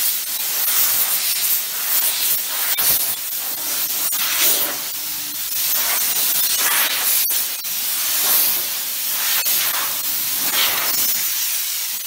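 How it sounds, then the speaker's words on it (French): Steam cleaner blasting plain steam, no soap, onto car bodywork in a finishing pass; a loud, broad hiss comes in steady bursts with brief pauses and sharp clicks between them, close up, with no talking. "Vapeur seule uniquement, sans savon."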